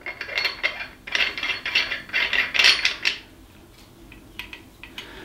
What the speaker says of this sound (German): Wir schrauben das Ganze einfach mal drauf und schauen es uns genauer an.